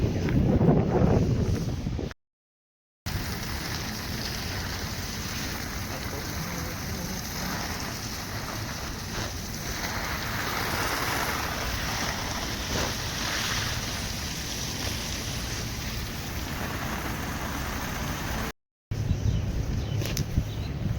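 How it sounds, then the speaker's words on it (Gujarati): Water sprays steadily from a hose pipe in a continuous, fairly loud hiss that runs almost unbroken for about twenty seconds, with no talking. "તો આજે આખામાં પાણી છોટવાનું."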